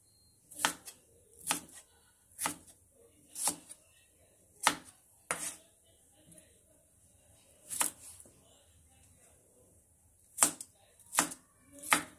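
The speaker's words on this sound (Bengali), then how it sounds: "টমেটোটাও ছোট ছোট করে কেটে নেব।" Tomatoes being chopped into small pieces on a board, about a dozen sharp, separate knife knocks at an uneven pace, close and crisp with quiet gaps between.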